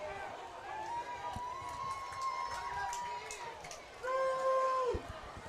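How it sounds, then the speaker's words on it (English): A packed crowd roars steadily through a night high school football game between Wichita Northwest and Bishop Carroll, a broad, continuous wash of cheering with a voice carrying over it and a louder swell near the end. "The crowd is electric. Boy, this place is packed."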